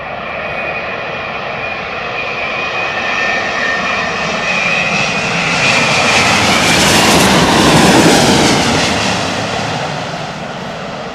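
Aircraft landing on a runway, a loud, close engine roar that swells to a peak around two-thirds through and then eases, with a sustained whine riding over the broad rumble.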